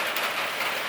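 Steady rain pours outdoors on a cold, soaked day beside closed street carts, a dense even hiss of drops on surfaces close by, with no talk.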